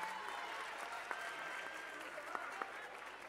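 An ice gala audience at a rink in Covo gives the surf-themed skaters steady, moderately distant applause, an even patter of many hands with a few sharper claps standing out, and some voices underneath.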